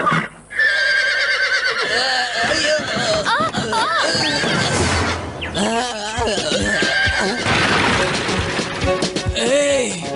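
Cartoon horses neigh and whinny with shrill, wavering cries several times, mixed with other animated sound effects, and dubbed voices talk over them.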